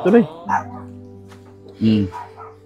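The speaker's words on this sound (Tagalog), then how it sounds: "Kumakahol kasi si Marshall, kaya umikot ako, tinignan ko, baka may tao sa labas" A pet dog barks at home, a few short yips near the start and again around two seconds, standing out against a steady low hum.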